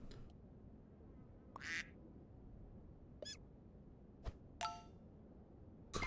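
Quacks from a duck in the Super Auto Pets video game sound as a few brief, faint electronic chirps and clicks, spaced apart over a quiet background.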